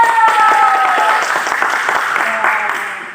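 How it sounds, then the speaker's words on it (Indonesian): Clapping during a Sunday school church service comes through with a tonal voice or music gliding over it, and the applause fades toward the end. "Mari kita tepuk tangan"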